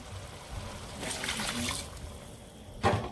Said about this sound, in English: So I'm going to add the water now.